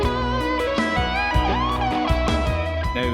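Electric guitar lick from a solo: a quick run of distorted, sustained notes with bends, played over a rhythmic backing track.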